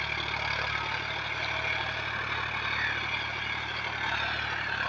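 A John Deere 5105 tractor engine labors steadily while pulling a cultivator in a field, a continuous close droning rumble with no breaks and no voices.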